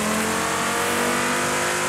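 A police car engine revs loudly and steadily in a video game, a sustained close roar of a vehicle under acceleration with no talk over it.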